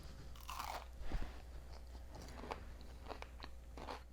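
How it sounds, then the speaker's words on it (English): Crisp, close crunching as sweet potato fritters are bitten and chewed, a few sharp crackly bites spaced through quiet chewing, faint and intimate with no talking. "I'm sure you can hear the crunching."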